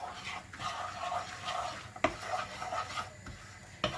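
Cumin, red pepper and black pepper are stirred together for a baby's teething wheat, giving soft rubbing and scraping strokes close by with a couple of light clinks of a spoon against the bowl, and no talk.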